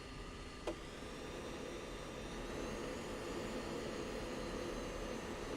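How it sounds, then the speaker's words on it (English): A jet aircraft taxis to the runway in the Falcon BMS 4.35 flight simulator, its engine a faint, steady whine and rumble. A single soft click comes near the start. "Gamble 7 flight is taxiing to runway"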